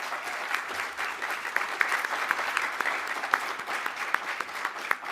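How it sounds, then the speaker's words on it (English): A conference audience gives a sustained round of applause at a closing session, with dense, even clapping from many hands filling the room, steady throughout. "I might ask you collectively to give her a round of applause"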